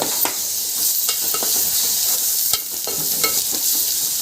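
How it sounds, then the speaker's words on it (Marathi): A loud, close sizzle of ground spice paste roasting over high heat in a pan, with repeated scraping and stirring clicks and no talking. "चांगला भाजून मसाला व्यवस्थित भाजून घ्यायचा आहे ना"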